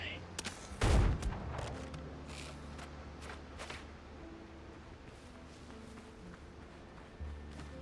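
A single loud gunshot in the pirate game Scallywag Windrose cracks on a beach, followed by scattered fainter shots and clicks over low ambient rumble and background music.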